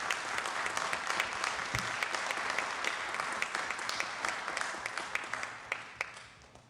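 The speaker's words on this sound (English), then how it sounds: "Give her a big round of applause." A crowd at a city council meeting applauds steadily for several seconds, dense clapping that stays fairly even before thinning slightly toward the end.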